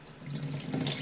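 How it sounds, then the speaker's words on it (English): Warm tap water runs steadily from a faucet into the tank of a Rug Doctor carpet cleaner, a close, continuous rushing splash that stays even throughout, with no voices. "So you add warm tap water"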